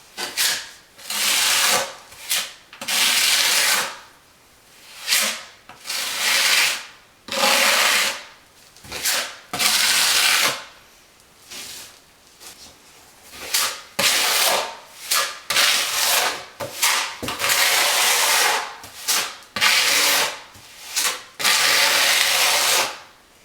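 A trowel spreads thinset mortar along a cement board seam during tile subfloor prep, giving repeated loud scraping strokes with short pauses between passes, close and alone.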